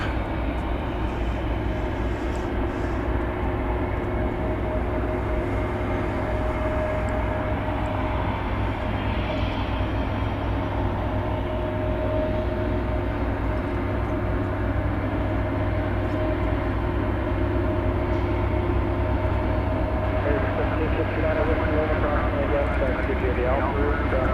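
An airliner arriving at DFW Airport at night from Wichita Falls, Texas, gives a constant, loud engine drone with steady tonal hums throughout, alone without voices.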